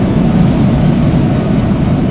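An airliner plunges into a dive after its number three engine explodes, heard as a continuous loud, dense engine roar that holds steady and unbroken for the whole stretch.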